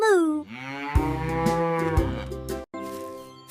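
A cow moos in one long, loud, drawn-out low call that holds steady for several seconds, heard alone with no talking.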